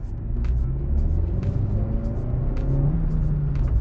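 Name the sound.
2022 Suzuki Swift Sport accelerating hard in second gear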